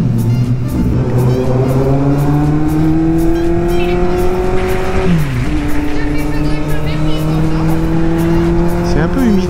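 Two motorcycles, a Kawasaki Z800e and a Yamaha XJ6 with a new exhaust, ride through small caves, their engines droning loudly and steadily with a rising pitch that drops and climbs again as they shift.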